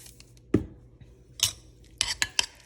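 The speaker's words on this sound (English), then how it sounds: "And then you're just gonna give this a good stir." A utensil knocks and clinks against a bowl while a marinade for Mediterranean steak is stirred, giving a handful of sharp, close taps spaced irregularly, with a quick cluster of clinks near the end.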